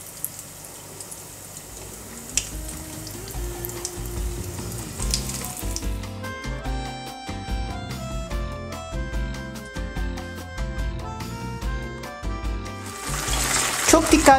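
Food fries in hot oil in a deep pot with a steady, crackling sizzle that runs throughout, broken by light utensil clinks and a louder burst of spattering toward the end.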